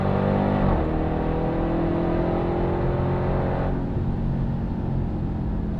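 A 2021 Dodge Durango SRT Hellcat engine roars under hard acceleration on a race track, loud and close, its rising pitch dropping sharply at gear shifts.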